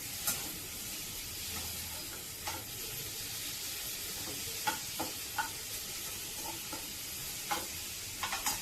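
Long-cut tomatoes are stirred into a sizzling gravy for Delhi-style chole. A loud, continuous hiss and sizzle runs throughout, with scattered spoon knocks and scrapes, and no voices.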